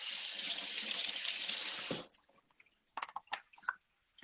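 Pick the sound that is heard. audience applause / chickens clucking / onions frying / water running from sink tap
water running from sink tap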